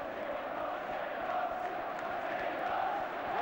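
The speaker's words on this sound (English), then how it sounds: "And listen to the crowd." Football stadium crowd at an Everton v Liverpool match roaring after a goal, a dense, steady wash of cheering voices that stays loud and sustained throughout with no distinct talk on top.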